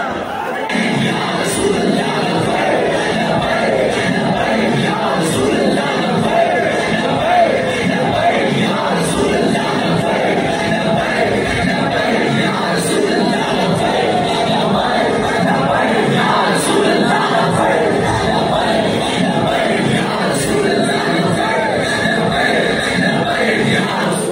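Big crowd at a Pakistani religious-political gathering chanting a slogan in unison, loud rhythmic massed voices with shouts and background chatter blending into a continuous roar.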